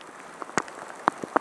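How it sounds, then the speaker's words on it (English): Hailstones strike the ground and surfaces outdoors in scattered, irregular hits, several louder impacts standing out against a soft pattering background. "Look at the size of these hailstones."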